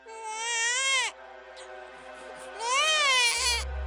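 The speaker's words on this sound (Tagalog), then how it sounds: "may narinig akong iyak ng sanggol" A newborn baby cries in two long wailing bursts separated by a short pause, loud and close, followed by a low thud at the end.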